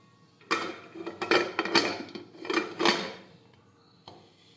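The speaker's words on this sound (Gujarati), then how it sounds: "હવે આપણે કુકરનું ઢાંકણ છે તે બંધ કરી દઈશું" A pressure cooker lid is fitted and shut over a pea and potato curry, giving a short cluster of five or six sharp metallic clanks and knocks up close, then quiet.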